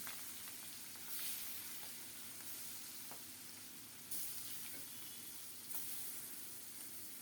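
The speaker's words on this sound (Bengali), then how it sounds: "তেল যথেষ্ট গরম হয়ে গেছে এখন মাছের পিসগুলো একটা একটা করে দিয়ে দিচ্ছি" Salted, turmeric-coated hilsa fish pieces fry in hot oil with a steady soft sizzle and hiss, broken by brief louder crackling bursts as pieces go in.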